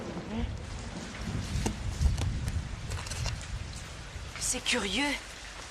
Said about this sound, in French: L'orage a brusquement éclaté quand on s'est approché du squelette géant.